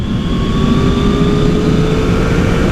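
A 2020 Yamaha R1 motorcycle engine drones loud and steady from the rider's position, its pitch rising slowly as the bike accelerates, with broad wind roar underneath.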